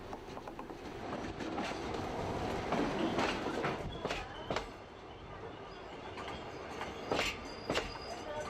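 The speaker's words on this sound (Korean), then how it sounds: "영주와 강릉에서 승부역으로 오가는 열차를 타게 되는데" A Yeongdong Line train runs toward Seungbu station through mountain country, a rolling interior rumble with rhythmic clicks and sharp wheel squeals, heard from on board.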